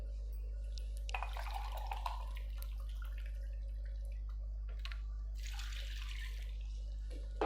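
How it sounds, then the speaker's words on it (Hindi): Water poured from a cup into a pot of mutton and spices, with splashing bursts of pouring in two spells over a steady low hum, close and moderately loud. "1 कप भर के पानी डालेंगे।"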